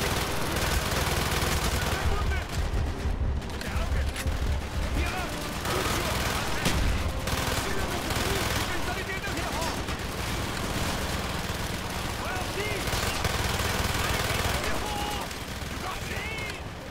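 Gunfire from a low-recoil gun in Call of Duty Black Ops campaign combat, with sustained rapid automatic bursts and booms layered densely throughout, loud and continuous with little pause.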